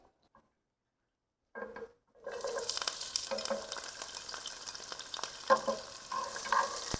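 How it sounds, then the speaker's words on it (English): Onion and vegetables sautéing in hot oil in a pot, a quiet start then a sudden strong sizzle as they hit the oil, followed by continuous frying with utensil scrapes and clanks as they are pushed around. "And just push it back and forth to saute it."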